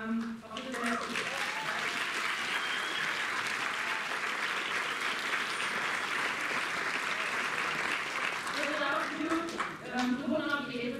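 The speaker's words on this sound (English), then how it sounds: "you all like to give a big applause to all the volunteers of the festival" An audience at a film presentation at the EU Film Festival in Toronto gives sustained, dense applause for festival volunteers, a steady wash of clapping lasting several seconds with a voice heard near the start and end.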